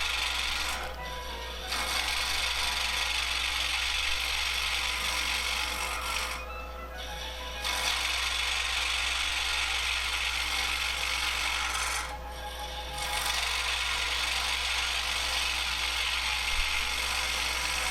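A gouge cuts into spinning wood on a lathe while turning a tobacco pipe bowl and shank, making a loud, steady rasping hiss over motor hum that breaks off briefly twice before resuming.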